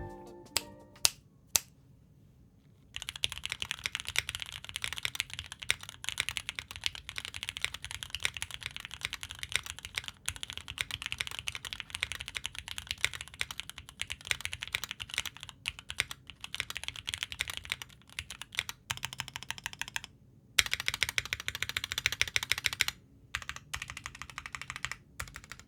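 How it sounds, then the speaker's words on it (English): Someone types steadily on a DROP CSTM65 keyboard fitted with DCX double-shot ABS keycaps. The dense, close clacking runs in quick runs of keystrokes, with a few brief pauses and a short stop near the start, and no voices. "let's take a listen to this board with some DCX keycaps, which are double-shot ABS."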